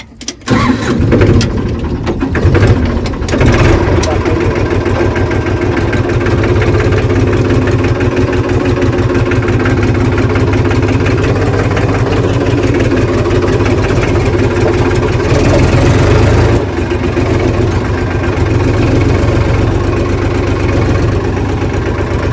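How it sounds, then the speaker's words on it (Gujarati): A heavy tractor engine starts with a few rough bursts, then settles into a steady, loud, continuous idle rumble that runs throughout. "ટ્રેક્ટર સ્ટાર્ટ કર્યું"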